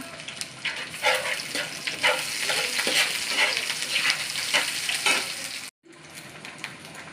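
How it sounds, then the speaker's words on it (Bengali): Whole cumin seeds fry in hot oil with a steady loud sizzle while a spoon stirs and scrapes the pan in uneven strokes, briefly cutting out near the end before the sizzling resumes. "এই যে গোটা জিরা দিলাম কড়া"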